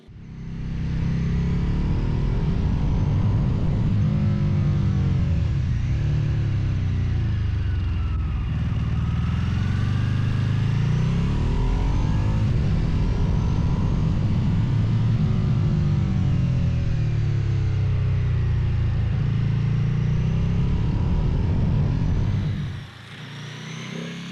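A Ducati 999 V-twin sport bike engine rumbles loud and close throughout, swelling and easing in long surges with a deep burbling tone, then drops off abruptly near the end.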